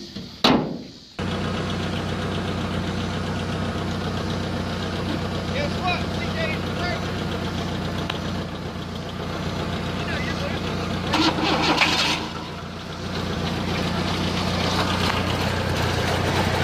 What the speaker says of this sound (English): it's running. Yes! Give it some gas. Rev it up a little bit.